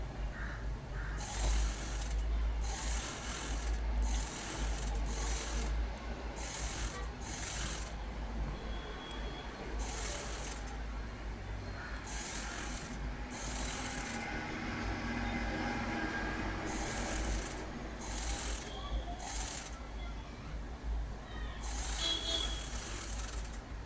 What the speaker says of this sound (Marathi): मी ते एक इंच कापड पट्टी घेतलेली आहे आता याला शिलाई मारून घेणार आहे